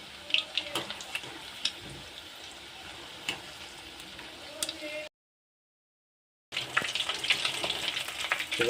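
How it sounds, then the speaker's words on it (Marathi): Prawns for a garlic prawn fry sizzle in a pan with steady crackling and sharp pops, a short silent gap, then louder sizzling that resumes. "आपले प्रॉन्स फ्राय होऊन रेडी आहेत"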